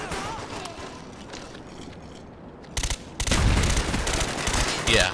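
Gunfire in Call of Duty Black Ops on the Wii, during an online team deathmatch on the Cracked map. A short burst comes first, then sustained rapid automatic fire, loud and dense, after a quieter stretch of game ambience.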